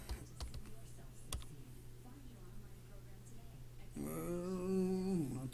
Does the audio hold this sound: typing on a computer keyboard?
yes